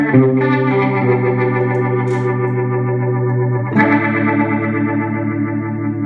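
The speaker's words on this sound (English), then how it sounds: "I've got a Leslie sound." Held electric guitar chords swirling through a Leslie rotary speaker effect, a warm wobbling shimmer, loud and close, with one chord change midway.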